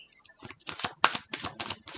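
Tarot cards are shuffled by hand in a quick run of crisp riffling bursts, close and fairly quiet, with a few sharp snaps between them.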